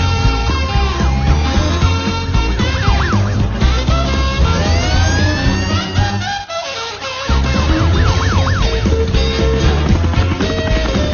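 Cartoon fire truck sirens wail through a busy, loud musical soundtrack, the rising and falling tones repeating in clear sweeps across the scene with a short dip in the middle.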